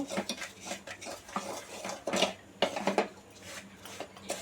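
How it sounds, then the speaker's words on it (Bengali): A utensil stirs a cup of semolina with cardamom pods as it browns in a pan, making irregular scraping and clinking strokes against the metal, close up and without talk. "আমি 1 কাপ সুজি পুরোটাই দিয়ে দিয়েছি এবং এগুলোকে খুব সুন্দর করে আস্তে আস্তে নেড়ে নেড়ে আমি ব্রাউন বা বাদামি করব"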